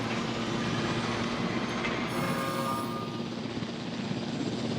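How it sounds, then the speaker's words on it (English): Helicopter in the Jurassic World Evolution video game, a steady, loud rotor drone holding at an even level throughout with no voices over it. "Now we have a chopper."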